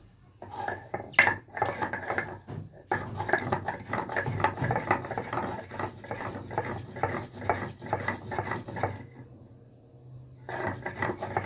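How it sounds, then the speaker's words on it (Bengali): Green chilli, ginger and garlic ground into a paste on a traditional grinding stone: close, rhythmic scraping and knocking strokes in a steady back-and-forth pattern, pausing briefly before starting again. "এটা করব কাঁচা লঙ্কা আদা আর রসুনের পেস্ট করছি"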